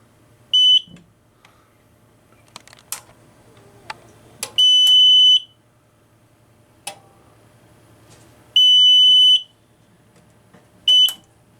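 A Silent Knight 5204 fire alarm control panel sounds loud, shrill bursts of alarm tone in separate blasts, with clicks and handling noise in the gaps between them.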